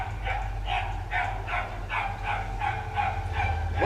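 A dog in the Super Mario World video game barks in a steady run of about eight evenly spaced yips over a constant low hum, with no talking.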